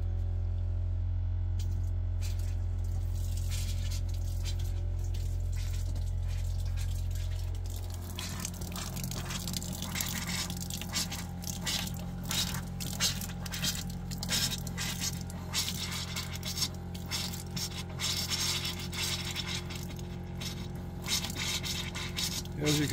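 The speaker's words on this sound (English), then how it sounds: "That noise you hear is the water pump." An RV water pump runs with a steady low hum, then gives way to sputtering, rushing water as air works out of the cold-water line.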